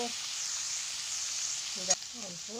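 Spices with turmeric, salt and red chili sizzle steadily in a hot pan over low heat, a constant crackling hiss close by, with a brief clink and faint voices near the end.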